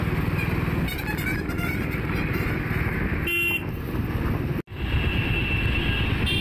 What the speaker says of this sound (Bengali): মেট্রোটাও দক্ষিণেশ্বর ঢুকছে এখন আমাদের সাথে